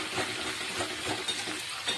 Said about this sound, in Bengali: এখন আলু কুমড়োটা একটু ভাজা করে নেবো।